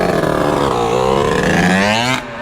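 A gas-powered Surron dirt bike revs loudly up close, its engine note climbing steadily in pitch before cutting off abruptly near the end.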